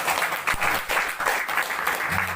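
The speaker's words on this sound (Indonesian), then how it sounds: "Itu tepuk tangan buat Anda semuanya." Seminar audience breaking into applause, a dense, loud wash of clapping that swells and dips in waves, with a faint voice near the end.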